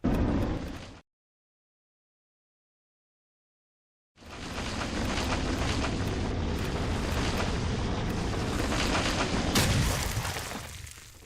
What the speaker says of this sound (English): Whoa! It exploded!